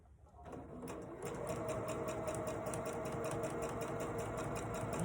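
A sewing machine runs steadily for about five seconds, stitching over a folded, hemmed fabric tab for a cross-body bag strap, with a brief quieter start before the motor settles into a continuous whirring drone.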